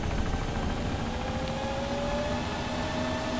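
Steady droning rotor and engine noise of a helicopter in the video game Arma 2: Operation Arrowhead, continuous and fairly loud, with a faint rising whine, no voices.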